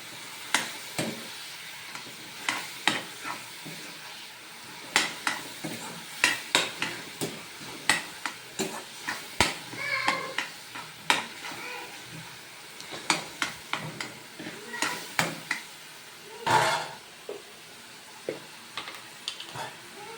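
Tomato curry in a pan is stirred with a spoon, giving repeated scraping and knocking strokes in an uneven rhythm over a soft simmering sizzle, close and moderately loud.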